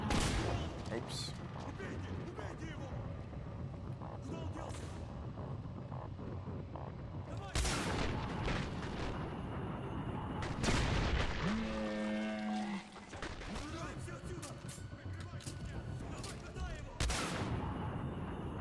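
A super weapon fires in the video game Singularity, loud sharp blasts at irregular intervals over a busy layer of combat noise and other effects.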